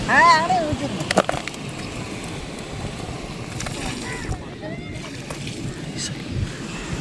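Fish rinsed by hand in sea water, with repeated sloshing and splashing close by over a steady wash of surf, while people talk nearby.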